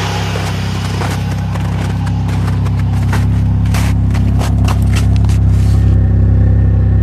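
A Buick engine with a leaking fuel line runs at steady idle close by, a loud continuous rumble with a rhythmic clattering tick on top that builds slightly over several seconds.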